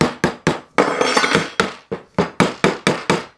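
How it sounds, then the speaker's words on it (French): A tiny hammer tapping metal on a 2007 KTM 250 EXC motorcycle part during assembly, a dozen or so sharp, ringing close strikes in a rough rhythm, with a denser burst of quick blows near the start. "je vais taper avec mon tout petit bout de marteau"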